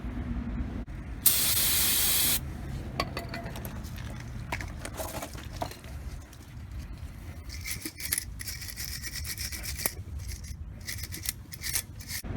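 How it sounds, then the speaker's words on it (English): A loud burst of aerosol brake cleaner spray hissing onto a disc brake bracket, followed by continuous scratchy wire-brush scrapes that keep going in an uneven rhythm close up. "we're going to spray these down real good, and the whole bracket anywhere real good with brake clean"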